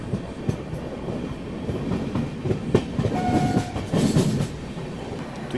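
Indian Gyan Ganga Express train rolling along the rails after departure toward Satna, with a steady rumble and rhythmic wheel clatter heard from on board, plus a brief faint tone partway through.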